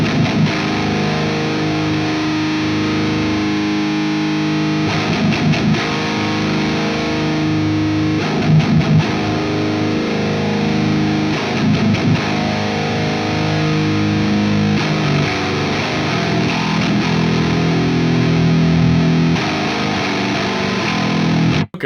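Heavily distorted 8-string electric guitar runs through an effects unit, playing dense, sustained low chugging riffs continuously and loudly with no pauses or speech.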